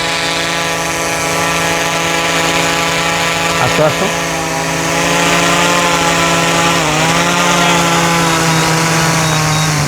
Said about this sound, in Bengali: আপনারা ড্রোনের শব্দ শুনতে পাচ্ছেন